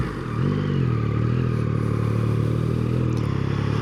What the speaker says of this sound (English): Oh yeah, exhaust sound check.